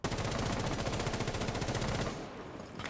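Rapid automatic gunfire from a weapon in a video game, a loud fast burst of evenly spaced shots lasting about two seconds before cutting off into a quieter tail.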